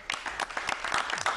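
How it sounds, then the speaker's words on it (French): Audience applause at a Ramadan special event, a short burst of dense clapping from a crowd, fairly close and steady with no one speaking. "Je vous demande d'applaudir Fatimatou Zahara,"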